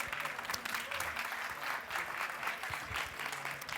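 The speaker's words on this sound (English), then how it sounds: "Let's give him a big round of applause." Steady audience applause after a talk on dietary hormetics, a continuous mass of clapping from a seated crowd heard at a distance and fairly faint.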